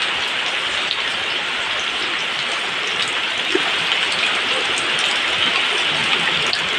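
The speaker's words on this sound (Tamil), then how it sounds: "இப்போ மழை நல்லா பெஞ்சிட்ருக்கு." Heavy rain falls steadily on a garden, a dense unbroken patter that stays close and loud throughout with no voices.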